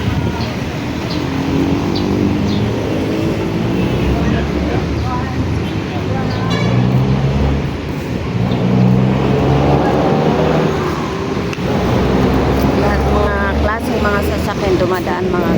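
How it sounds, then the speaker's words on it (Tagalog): Steady road traffic rumbles throughout near a Puregold store, with cars passing nearby under continuous talking. "Ayan, may nagta-traffic doon mga guys."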